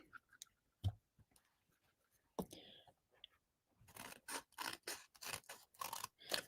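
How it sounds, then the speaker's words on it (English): Small scissors snipping side pieces off a handmade birthday card, scattered single cuts at first and then a quick run of rhythmic snips, close and quiet with soft whispery sounds between them. "what I'm going to do is cut some of the side pieces off"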